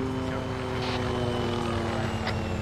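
An MH-6 Little Bird helicopter in the military shooter ArmA 3 drones steadily overhead, a continuous engine and rotor hum holding at even loudness throughout with no pauses.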